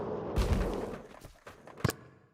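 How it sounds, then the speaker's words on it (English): A firecracker pops inside the skateboarding game Skater XL at Love Park, a sharp blast followed by a rumbling tail, then a second crisp crack about a second later, moderately loud. "Oh, firecracker."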